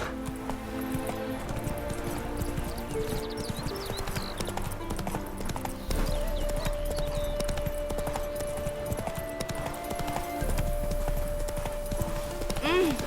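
Geralt's horse trots along in The Witcher 3: Wild Hunt, with steady rhythmic hoof clip-clops and jangling tack beneath game music and voiced dialogue, and a brief whinny in the mix.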